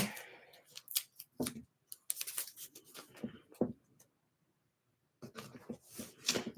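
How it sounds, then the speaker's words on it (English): Masking tape is pulled and torn while taping off a watercolor scraper painting, heard as short, crisp ripping bursts up close, separated by quiet pauses. "I'm going to tape it off"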